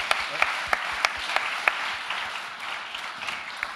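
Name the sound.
audience applause at a closing ceremony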